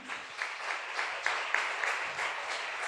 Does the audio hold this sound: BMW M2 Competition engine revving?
no